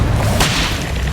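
A Confringo spell cast in the Hogwarts Legacy video game on PS5, a single sharp whip-like crack with a brief swoosh, loud and close over a steady low rumble.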